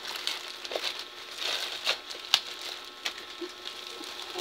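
Parcel packaging is torn and pulled open by hand without scissors, giving irregular crinkling and rustling with a few sharper snaps, close and fairly quiet.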